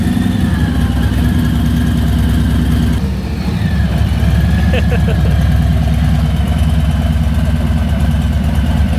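A Porsche Macan GTS engine runs nearby at a loud, steady, low idle, with a brief dip in level partway through.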